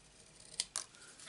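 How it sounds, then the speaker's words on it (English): Scissors make two quick, crisp snips close by, sharp metallic cuts over a quiet background with no talk. "Get some scissors out,"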